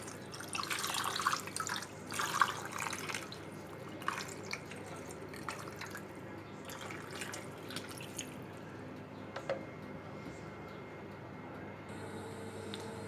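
Water being poured over stuffed peppers in a tray, a trickling splash that is strongest in the first few seconds and then thins to faint dribbles, heard close up with no speech.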